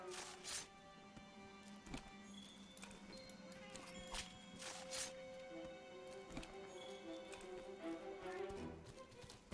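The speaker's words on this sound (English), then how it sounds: "the horse sound effect in the middle of it." Horse hooves clip-clop in an uneven rhythm in the video game Monster Hunter: World, with sharp percussive knocks and clatter over a soft, low game-audio background.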